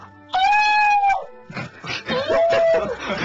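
A person on a Korean radio show imitates a wolf howling, making two drawn-out, wavering voiced howls close to the microphone, the first steady and the second broken and yelping, with studio sounds around them.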